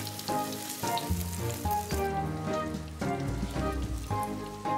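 Shrimp roe paste frying in oil in a pan, a steady close sizzle and crackle that runs through the whole stretch with no talking.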